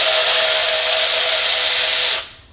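A power tool whirs loudly and steadily for about two seconds, loosening 12 mm nuts on a Toyota 2UZ-FE V8 engine during thermostat work, then winds down and stops.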